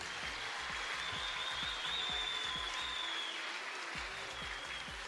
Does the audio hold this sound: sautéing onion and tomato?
no